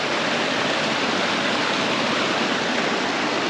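Waterfall at the top of Zoe Falls on the Thorsbone Trail, a steady, dense roar of falling water filling the whole clip, loud and close with no pauses.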